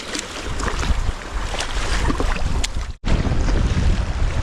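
Boat crossing choppy water in strong wind, with loud continuous wind buffeting and the rush and slap of waves against the hull, near and constant, broken by one brief cutout.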